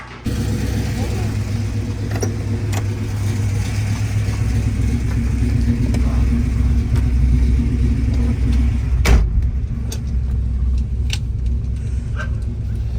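A 1964 Pontiac GTO with a 389 Tri Power V8 and four-speed idles with a deep, steady rumble close by, a sharp clunk near the middle, and brief blips afterward; voices talk over parts of it.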